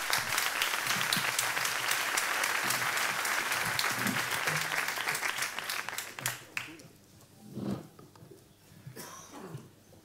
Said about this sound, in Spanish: pues un aplauso yo creo que para los ponentes.